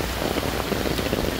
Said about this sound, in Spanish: mucha lluvia, se ve oscuro, oscuro, oscuro, totalmente oscuro